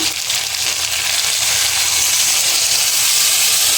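Loud, steady steam hiss and sizzle as a little water hits fried potato and eggplant in a hot pan, close and continuous for a few seconds without talk.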